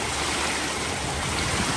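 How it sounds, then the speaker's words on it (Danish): Waves wash steadily onto a beach, a broad continuous hiss of surf without pauses, close and fairly loud throughout. "nu er vi nede ved stranden"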